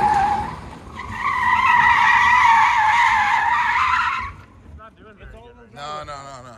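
Tires squeal in a long, loud screech as a car spins donuts, then the engine revs and fades while the skid dies out near the end.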